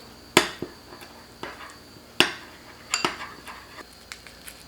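Mirin and a tablespoon of oil are stirred together in a bowl for a spicy green onion seasoning, giving a few sharp clinks of a utensil against the dish with quieter scraping between them.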